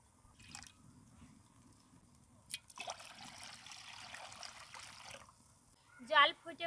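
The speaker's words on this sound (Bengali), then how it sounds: "কাঁঠাল আর আলু সিদ্ধ করে নেওয়ার জন্য কড়াইতে জল দিয়ে দেব" Water poured into a wok to boil jackfruit and potato makes a few seconds of steady splashing in the middle, with brief knocks before it and a sharp clatter at the end, over low room noise.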